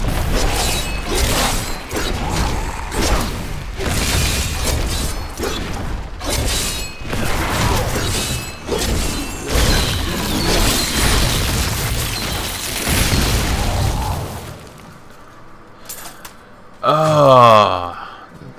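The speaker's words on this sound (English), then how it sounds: "that corpse explosion is great for taking care of masses like that" Repeated booming blasts and shattering bursts from a corpse explosion spell in Diablo III, a dense, loud barrage of overlapping detonations over many seconds, with a brief chiming magical flourish near the end after a short lull.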